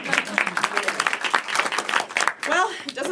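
An audience at a live event claps in quick scattered bursts, mixed with lively voices and cheering throughout.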